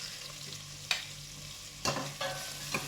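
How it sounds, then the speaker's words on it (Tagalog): A spoon stirs chicken tinola in a pot, with a steady soft sizzle underneath and three or four distinct scrapes and clinks against the metal, close and fairly quiet. "halu-haluin lang po natin"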